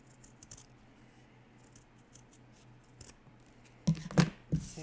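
Scissors trim through fabric for a double-pocket pot holder, giving a few close, crisp snips in a short burst near the end after a quiet stretch.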